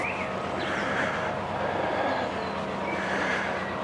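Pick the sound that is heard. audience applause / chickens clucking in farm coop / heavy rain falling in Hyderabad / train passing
train passing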